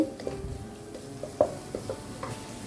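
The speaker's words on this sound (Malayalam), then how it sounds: "ഒരു 1/2 ടീസ്പൂൺ ഉപ്പും ചേർത്ത് ഈ ഉള്ളിനെ നമുക്കൊന്ന് വാട്ടിയെടുക്കാം" Onions softening with a half teaspoon of salt in a pan, giving a quiet, steady low sizzle broken by a few soft stirring clicks and scrapes, with no voices.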